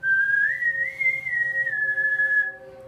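A single sustained human whistle, clear and close, drifting upward in pitch, holding, then easing slightly down before stopping.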